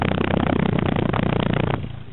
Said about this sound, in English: The exhaust is homemade by the previous owner.